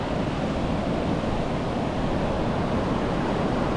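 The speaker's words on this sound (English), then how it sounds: "And then the ocean." Ocean surf rolls steadily along the Australian coast, a dense, constant roar of waves with wind buffeting the microphone.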